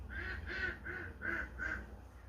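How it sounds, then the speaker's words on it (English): Five nasal duck quacks come in a quick, even series, played back by an Alexa smart speaker at fairly low volume in a quiet room. "Here's a duck quack."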